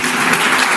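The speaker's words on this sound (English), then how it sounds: "So applaudissez les amis" A short, loud wash of audience applause fills a ceremony hall, many hands clapping evenly without a break.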